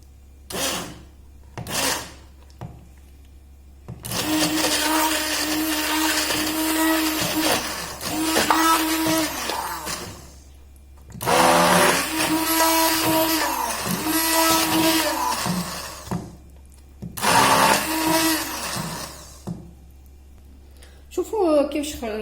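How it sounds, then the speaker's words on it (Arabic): A blender whirs through ingredients for a milk chocolate coating, including oil, in three long loud motor bursts separated by short pauses, with a voice talking at the start. "دوكا نسحقو برا ميكسور"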